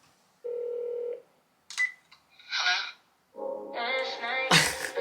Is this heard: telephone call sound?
yes